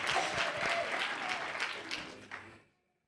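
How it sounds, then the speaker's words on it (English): A burst of enthusiastic crowd applause, many hands clapping loudly, then tapering off and fading to silence near the end. "Let's give them another round of applause for Kavion and Desiree."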